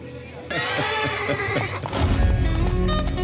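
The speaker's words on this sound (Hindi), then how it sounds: "ये इतने घोड़े किस लिए आए हैं यहाँ?" A loud, drawn-out horse whinny close by at Baisaran, Pahalgam, followed by heavier snorting and clopping hooves on hard ground.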